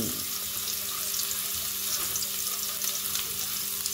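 Ingredients sizzle steadily in a hot pan while sautéing for spaghetti, a dense continuous frying hiss close by with faint clinks of stirring.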